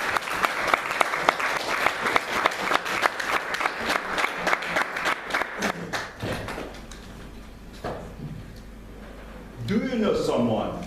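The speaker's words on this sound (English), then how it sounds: "With a big round of applause" Applause at a Toastmasters meeting welcoming speaker Brijendra, a rhythmic clapping in fairly unison beats that thins out and stops about halfway, followed by quiet room tone and then a voice starting to speak.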